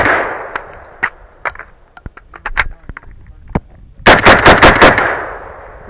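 Rifle shots at a rifle match, a string of sharp cracks at irregular intervals followed by a rapid burst of five loud shots near the end, with a voice heard early on.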